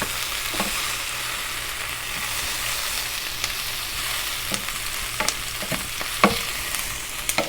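Shrimp and sausage stir fry with bell peppers sizzles steadily in a pan, a continuous close frying hiss with occasional sharper pops and spatters standing out over the constant bed of sound.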